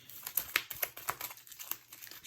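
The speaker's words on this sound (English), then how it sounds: "So you grab your deck and your contamination cards, shuffle that up thoroughly" A deck of board game cards, including contamination cards, is shuffled thoroughly, giving quick, close, papery riffling and crinkling snaps in an irregular flurry, quiet and without talk.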